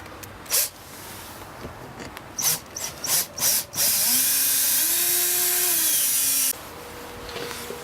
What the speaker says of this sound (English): we're going to put the screws back in the order that we took them out